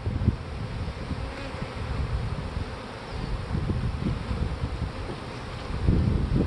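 Honey bees buzz steadily around an opened donor hive during outdoor work on mating nucs, a dense low hum lasting throughout with some wind noise and no voices.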